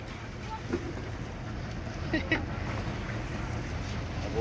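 A new boat engine runs on a fishing trip at sea, a steady low drone mixed with wind noise that holds for the whole stretch, with faint voices now and then.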